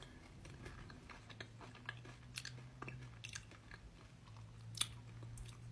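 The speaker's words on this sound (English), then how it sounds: "Chew, chew, chew." Close, quiet chewing of a crunchy chocolate peanut butter candy bar, with irregular crisp crunches and clicks spread over several seconds and no talking.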